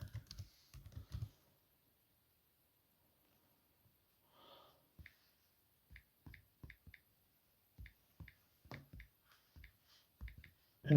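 A job name typed on a computer keyboard in machine control software: after some brief faint fumbling, a run of crisp, close key taps comes in short uneven bursts separated by pauses.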